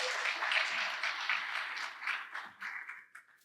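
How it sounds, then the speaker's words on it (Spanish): Audience applause at a conference hall during the opening of a national meeting, a steady wash of many hands clapping that thins out and fades toward the end. "Un aplauso, por favor."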